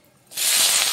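Capsicum drops into hot mustard oil and a sharp, loud sizzle bursts up about a third of a second in, then holds as a close, steady hiss.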